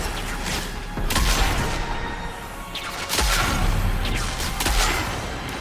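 Sniper rifles fire at Vex enemies in Destiny 2: several heavy, booming shots spaced a second or two apart, each with a sharp crack and rolling low tail over continuous battle noise.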